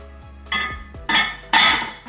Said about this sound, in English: I have a couple of Le Creuset pots and pans here that I'm going to keep